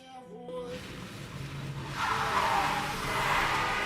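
A car brakes hard and its tires skid, a rising squealing screech that swells and holds loudly over the last half, following a brief tonal sound at the start.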